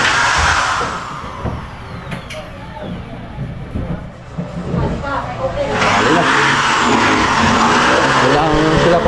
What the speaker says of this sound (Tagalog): Sa mga baguhan pala natin, mga soyo, 6WF1 pala ito. WF1 engine.